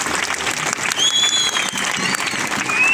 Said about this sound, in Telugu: కాబట్టి సార్కి అందరూ క్లాప్స్ కొట్టండి వచ్చినందుకు.